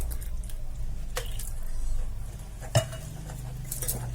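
Batter for curry pakoda made with coriander powder and ground yogurt being stirred and mixed in a bowl with a spoon, soft wet squishing strokes punctuated by a sharp clink against the bowl, close and without talk.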